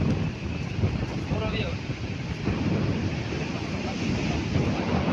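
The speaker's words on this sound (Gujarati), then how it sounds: "એટલો પવન છે ભાઈ" Strong wind buffets the microphone on the shore at Dwarka while sea waves roll and wash continuously behind it, making a dense, roaring rush with no break.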